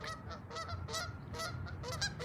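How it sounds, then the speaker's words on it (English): Geese honk repeatedly along a river in Ottawa's Allen Park, a flock of nasal calls at a moderate distance over a steady low background rumble. "You can hear the geese going here at the river in Ottawa"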